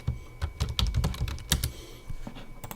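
A computer keyboard is typed on in a quick, uneven burst of close, crisp key clicks, with brief pauses between short runs of keystrokes.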